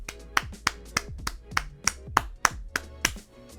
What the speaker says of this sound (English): we got to give a round of applause